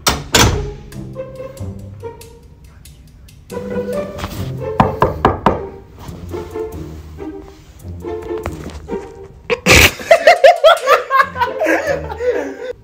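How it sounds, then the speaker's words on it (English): Knocking on a dorm room door numbered 314 comes in several bursts of firm raps, loud and close, mixed with laughter and chatter from people nearby. "Knock on 314."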